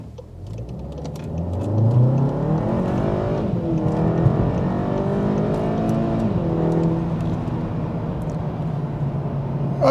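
A car accelerates hard, its engine climbing in pitch through several gear changes, loud and close, a continuous rising drone with brief dips at each shift and no talking.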